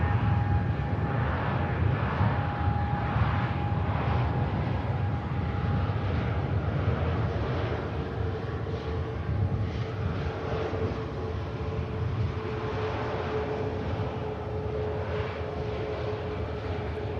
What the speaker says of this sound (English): Thrust reverse.